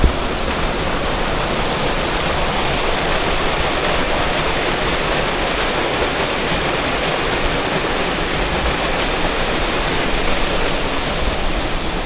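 Kakawayan Falls in Infanta, Quezon rushes in a loud, dense, unbroken roar of falling water, close and steady throughout with no voices.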